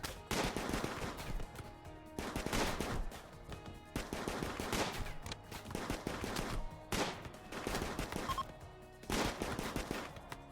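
Rapid bursts of automatic gunfire in the video game RimWorld, loud and close, coming in several repeated volleys with brief gaps between them and no voices.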